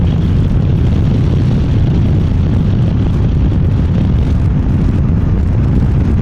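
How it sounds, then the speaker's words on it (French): A steady, roaring engine drone from a 2010 Honda CB1300S with fairing, with heavy wind buffeting, continuous and loud throughout, as if recorded while riding at speed. "au moins on entend le bruit du moteur"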